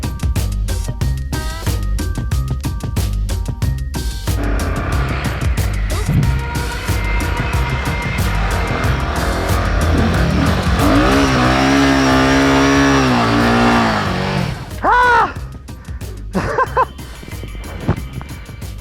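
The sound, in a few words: BMW GS adventure motorcycle accelerating for a run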